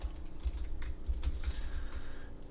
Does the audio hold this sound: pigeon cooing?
no